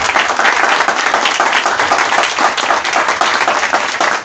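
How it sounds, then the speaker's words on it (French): A crowd at a Gabonese gathering on prisoners breaks into loud, sustained applause, a thick continuous patter of many hands clapping with no gaps and little talking. "Et je vous demande également de l'applaudir."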